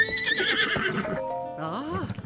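A horse in the video game Zelda Tears of the Kingdom whinnies with a bright, wavering neigh, followed by a short snort and rising call near the end, fairly close and clear with light hoof sounds.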